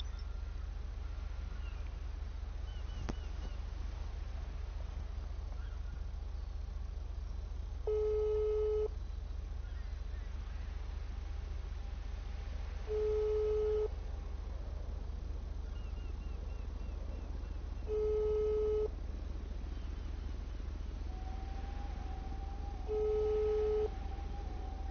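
A telephone rings unanswered during a prank call, four evenly spaced double-burst tones about five seconds apart over a constant low hum and faint line hiss.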